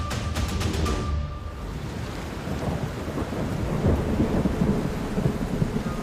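Heavy rain pours steadily as a deep thunder rumble rolls through, loud and close, with a brief bright crack early on and dense wet hiss filling the rest.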